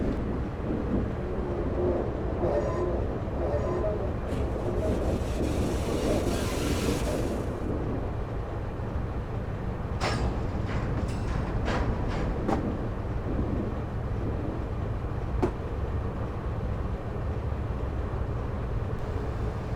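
HST train in Train Simulator 2015 coasting with power off over points on the Bristol to Exeter route, a continuous low rumbling drone with several sharp clacks and clunks as wheels cross the points.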